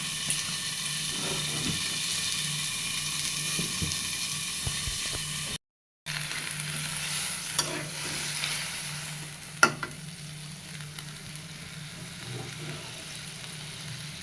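A pan sizzles continuously as food is sautéed, with occasional scraping stirs and a brief dropout partway through, nearby and with no talking.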